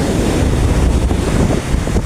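Sea waves break on a sandy beach on a windy, overcast afternoon in a steady, loud roar of surf, with gusts buffeting the microphone throughout.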